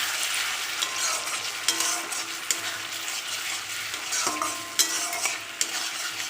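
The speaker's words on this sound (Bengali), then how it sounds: "আর একটু 1 মিনিটের মতন কষিয়ে নেব।" A ground paste of mustard seed, poppy seed and dried red chillies fries in hot oil for a fish curry, giving a steady close sizzle with occasional sharp spoon scrapes and clinks against the pan.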